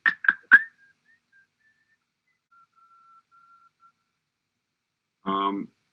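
A few short whistled notes open a song's lead melody, then a long, faint sustained tone drifts quietly before a brief voiced burst at the end.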